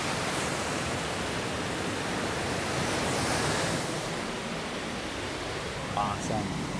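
Moose Falls on Crawfish Creek in Yellowstone pours with a steady, broad rushing roar that fills the whole stretch, and a few faint sounds come through near the end.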